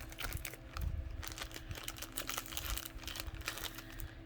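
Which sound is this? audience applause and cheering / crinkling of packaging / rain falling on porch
crinkling of packaging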